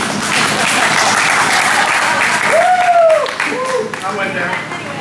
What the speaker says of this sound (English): give yourself a round of applause real quick